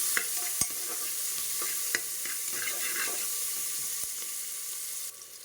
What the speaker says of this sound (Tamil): வெங்காயம் லைட்டாக வதங்கணும்.